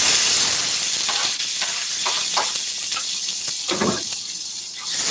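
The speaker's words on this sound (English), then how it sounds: "I'm gonna start out by frying up all my seasoning." Seasoning fries in a pot with a loud, continuous sizzle and hiss, broken by occasional stirring scrapes.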